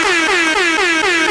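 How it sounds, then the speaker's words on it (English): A loud, sustained air horn blast with a rough, wavering pitch that pulses slightly, sounding alone for over a second. "Give it an air horn."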